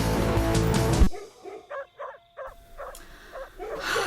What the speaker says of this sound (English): I can't stand it when the next door's dog barks at night.